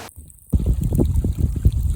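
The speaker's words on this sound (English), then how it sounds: "Our path is a waterfall." Rainwater pours down a steep mountain path in Wales on a wet day, turning it into a small waterfall; after a brief silent gap a close, steady rushing and splashing of running water fills the scene.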